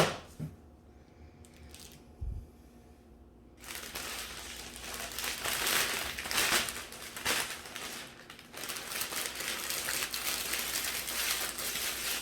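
Ribbon for a gift basket is crunched and crumpled by hand, a few faint rustles at first, then a longer run of loud, close crinkling and scrunching in bursts.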